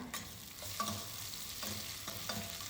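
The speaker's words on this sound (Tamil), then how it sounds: "கருவேப்பிலை வந்து சேர்த்துட்டு அதை வந்து நல்லா வந்து வதக்கி விட்டுடலாம்" Steady oil sizzle from a pan of onions and curry leaves, with a few scraping stirs of a spoon through the sizzling food, close by, with no voices.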